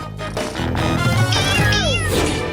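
Someone imitates a cat, giving loud, close, drawn-out meows with rising and falling pitch. Other voices and playful background noise sound along with it.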